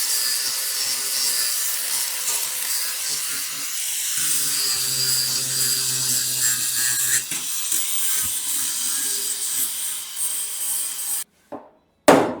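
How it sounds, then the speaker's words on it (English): An angle grinder smoothing the cut, filled edge of a 1965 Chevrolet C10 truck bed side, a loud steady high-pitched whir with rasping grind over about eleven seconds, then a brief dropout and a final burst. "let me hit it with a grinder"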